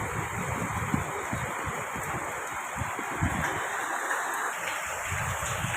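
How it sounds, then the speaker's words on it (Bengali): Steady monsoon rain falling in a Bengal village, a dense continuous hiss with a low rumble beneath, even and unbroken throughout, moderately loud with no voices. "খুব সুন্দর বৃষ্টি হচ্ছে।"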